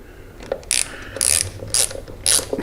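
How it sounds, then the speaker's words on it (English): A ratchet loosens a 1/4 inch hex bolt on a motorcycle headlight bracket, giving four or five short, crisp clicking bursts in an even rhythm, close up with no talking. "You've got a 1/4 inch hex bolt, so we're going to go in here and loosen this."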